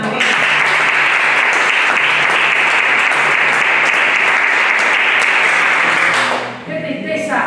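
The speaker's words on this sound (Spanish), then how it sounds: "Denle un aplauso al Señor." A church congregation claps in loud, dense, sustained applause for about six seconds before it tapers off abruptly, with a voice speaking as it fades.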